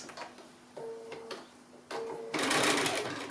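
A sewing machine stitches around a fusible-web fabric leaf in short, close runs of whirring, the motor starting and stopping before a louder, steadier stretch at the end.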